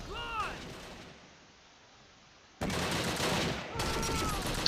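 Mortar and gunfire bursts in the Close Combat: Last Stand Arnhem game, a sharp blast at the start, then a quiet gap before loud sustained explosive rumble and crackle returns, with a further burst near the end.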